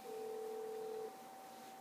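A phone call tone in the GTA 5 video game: a steady electronic tone holding two pitches at once, the lower one cutting off after about a second while the higher continues alone, with no talking.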